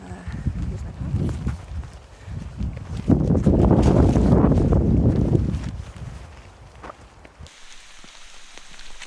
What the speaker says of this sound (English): And but it's very windy.